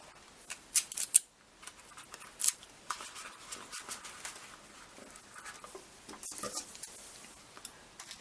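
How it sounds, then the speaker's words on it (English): Scissors cut through tape for a paper mache pig, a series of crisp close snips and clicks in irregular bursts, louder early on, with softer rustling between them. "Cutting the tape"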